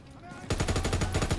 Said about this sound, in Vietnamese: con MG này bắn phê phết anh em